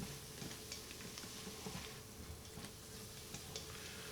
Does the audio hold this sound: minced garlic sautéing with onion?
yes